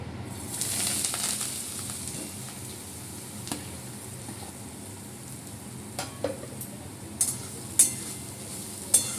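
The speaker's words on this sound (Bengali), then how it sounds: "এটাকে একটু নেড়ে শুকনো করে নেব" Potato-style filling stirred and dried in a kadai, a soft continuous sizzle with occasional sharp scrapes and knocks of the spatula, close and fairly quiet.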